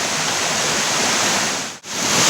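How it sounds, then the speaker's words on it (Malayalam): Water foams and pours down the Adakode Chola waterfall in a steady, dense broadband roar that stays loud and close from start to finish, dipping only for a brief moment near the end. "വെള്ളം നല്ല നരഞ്ഞ് പതഞ്ഞ് ഒഴുകനെയാ താഴത്തേക്ക്"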